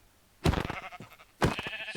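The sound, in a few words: sheep bleating in a video game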